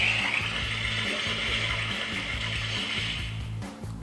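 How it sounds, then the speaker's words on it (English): A Water Gun attack in a Pokemon GO battle gives a bubbling, gushing water effect that runs continuously under a rhythmic, looping game music beat, fading out near the end. "I think it's water gun."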